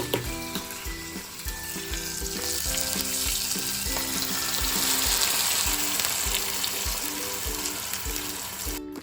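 Biryani gravy paste fries in a pan with a steady, busy sizzle, punctuated by regular soft scraping taps of a stirring spoon throughout.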